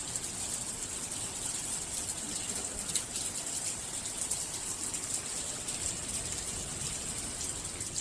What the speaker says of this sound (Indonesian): Dan sekarang beneran hujan.